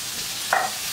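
Vegetables fry in a pan, giving a steady close hiss of sizzling with a short stirring scrape partway through and no voices.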